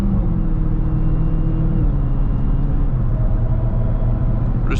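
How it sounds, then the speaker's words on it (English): A Dodge Charger Hellcat drives through morning traffic with its supercharger whining. A steady, close engine rumble runs throughout, and a tonal whine rises and falls above it. "We're just listening to the whine, really."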